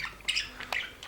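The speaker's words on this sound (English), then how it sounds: "to the right, my mega super parrots from Australia." Australian parrots giving a few short, sharp squawks and chirps close by, one call after another over a quiet background.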